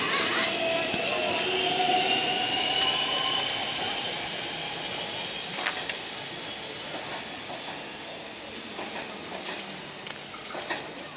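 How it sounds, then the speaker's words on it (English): A Melbourne suburban train bound for Flinders Street rolls out of Jolimont station with a broad rumble and wheel noise that gradually fades, a few clanks and squeals poking through near the end. "Flinders Street service leaving the platform."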